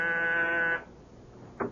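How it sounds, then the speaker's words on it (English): A door buzzer sounds a steady, loud electric drone for under a second, then cuts off; a short faint thump follows after a pause. "I was just about to leave when my door buzzer sounded."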